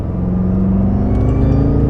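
BMW F10 M5 accelerating hard at partial throttle, a loud close engine roar with rising deep harmonics heard from inside the car, continuous for a couple of seconds.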